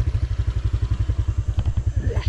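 A motorcycle engine idles nearby with a steady, rapid low thumping pulse, a few faint clicks and rustles toward the end.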